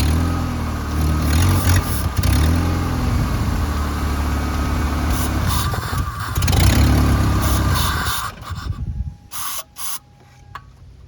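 Ford engine with throttle cleaner in the throttle body, revving roughly and stumbling at idle, loud and close with uneven bursts, then stalling into near quiet with faint clicks near the end.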